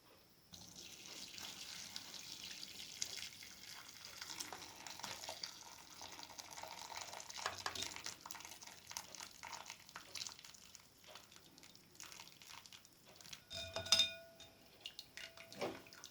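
Chicken and vegetable soup is strained, and liquid pours and splashes steadily for several seconds. It ends with a brief louder clatter near the close, with no talking.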